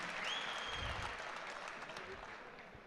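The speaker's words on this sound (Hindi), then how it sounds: "जरा इनके लिए तालियां बजा दीजिए" A crowd applauds at a grand mushaira poetry gathering in Indore, a soft, steady wash of clapping heard from a distance, faint under a light hum with brief background voices.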